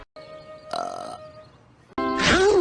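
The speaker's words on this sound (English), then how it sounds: "your burps are like the sweetest" A burp rings out after a quiet stretch, followed by another loud, drawn-out belch with a falling pitch, close and prominent, with a brief tonal hum in between.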